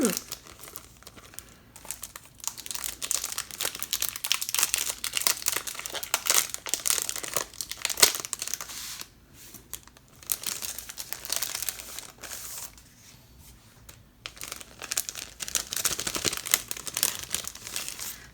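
Paper envelopes and packaging from a Little Red Balloon ink order crinkle and rustle up close in irregular bursts with brief pauses, sustained for nearly twenty seconds.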